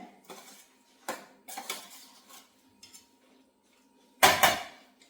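A spoon scrapes and knocks against a metal pot while tamarind is stirred into a curry, giving a few scattered clinks and scrapes with a louder clatter near the end, close and without talk.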